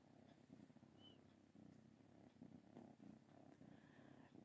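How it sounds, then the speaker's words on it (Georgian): A cat purrs steadily and softly up close, a continuous low rumble with a brief louder bump at the very end. "კრუტუნი არის"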